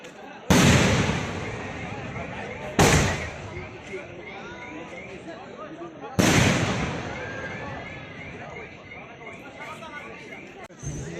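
Christmas fireworks bursting outside an old church at night: three sharp loud blasts, each trailing into crackling and a long rumbling echo, with crowd chatter and voices running underneath throughout.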